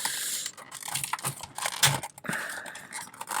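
Plastic packaging around a die-cast model car is sliced and pried open, giving close, uneven scraping, crinkling and snapping bursts with short pauses between cuts.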